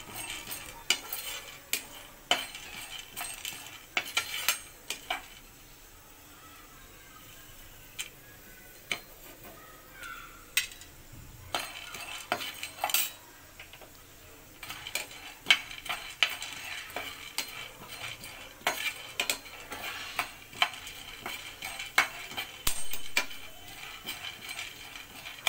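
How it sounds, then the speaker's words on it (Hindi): Sesame seeds roast in a pan while a spoon scrapes and stirs them in irregular clinks and rasps over a faint sizzle, close and fairly loud, with no talking. "तिल को भी रोस्ट कर लेंगे"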